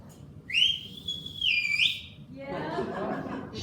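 A person whistles in imitation of a mother's call-home whistle: a single rising, sustained whistle that bends and falls away, followed by soft chuckling or murmuring nearby.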